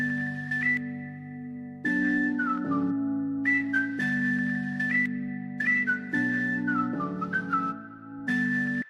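A whistle melody in an FL Studio beat plays short stepping phrases over sustained chords, bright and clear, repeating across the loop with no voices.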